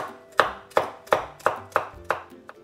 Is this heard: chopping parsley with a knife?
yes